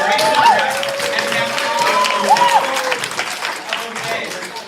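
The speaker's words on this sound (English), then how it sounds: "Can we get a round of applause for our tech crew tonight?" Audience applause for the tech crew at a live comedy show, a continuous moderate clatter of many hands with crowd noise and a voice or two mixed in.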